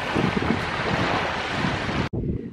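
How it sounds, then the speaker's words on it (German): Sea waves rush onto a Tuscan shore under strong wind buffeting the microphone in a steady roar, then drop off sharply for a moment before the surf returns. "Es ist so herrlich, das Rauschen des Meeres."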